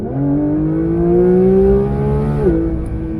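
A Porsche 911 992 GT3 engine drives on the Sepang circuit, a loud, close, steady mechanical whine whose pitch climbs, then drops sharply at a gear change and carries on.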